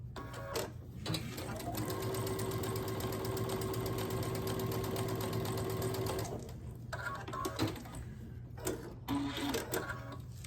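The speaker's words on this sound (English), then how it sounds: "And then I'm going to stitch across here." A sewing machine stitches strips of fabric in one steady, fast run lasting several seconds, close and clear. Short bursts of stitching and handling noises follow.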